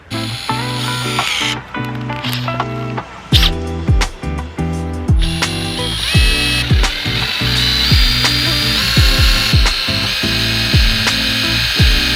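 A drill works holes of 3/8 and 5/16 inch through a thick steel plate for an alternator bracket on a 1968 Volvo, giving repeated grinding, chattering bursts with short pauses between them, close and loud.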